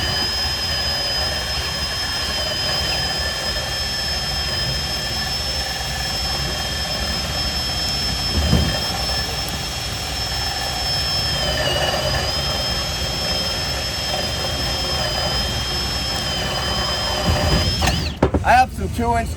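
A Diablo saw cuts steadily under 10 pounds of applied weight, a continuous high whining drone that runs for most of the stretch with a faint voice underneath, then gives way to clattering knocks near the end.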